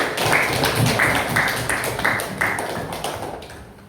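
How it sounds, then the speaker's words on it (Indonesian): A group claps together for the first group of students in a classroom, with a steady, moderately loud burst of applause lasting a few seconds and fading slightly at the end. "tepuk tangan dulu untuk kelompok pertama"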